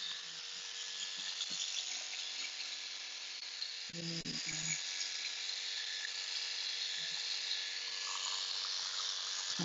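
Electric clippers shave a standard poodle's face, a steady, close, fairly quiet buzz that runs unbroken throughout, with a few faint low bumps and no talking.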